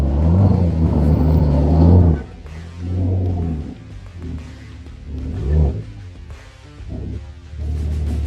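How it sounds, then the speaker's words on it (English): An older Porsche Panamera churns through a nasty off-road mud pit, its engine rumbling deep and loud, surging and easing in uneven pulls over several seconds with no talk. "And now another Porsche Panamera arrives, this time an older model, bringing a different kind of presence to the scene."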